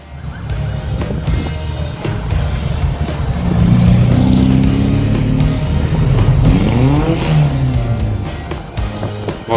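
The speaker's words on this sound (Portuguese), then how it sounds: "os carros antigos passando, e agora eles estão passando por aqui" Antique cars drive past after a parade at the Hercílio Luz Bridge, their engines rumbling and revving loudly and close by as several vehicles pass in succession, with a sustained rise in engine roar partway through.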